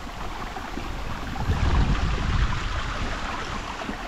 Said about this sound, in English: This is our first wild, unmarked waterfall on Come On Adventures.